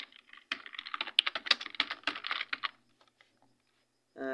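A name being typed on a computer keyboard in a quick, close burst of clicky keystrokes lasting about two seconds, then a few slower presses before quiet.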